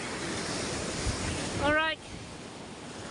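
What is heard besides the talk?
sea waves on the shore at a seaside village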